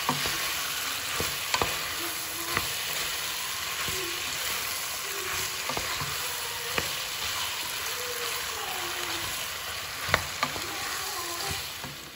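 Minced meat sizzles steadily in a pan, a constant hiss of frying broken by occasional scrapes and clicks of stirring, close up and with no talk.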